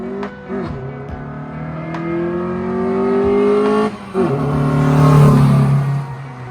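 A manual-swapped Honda Integra on its first drive, its engine loud and close as it revs up through a gear, dips briefly at a shift, then climbs again.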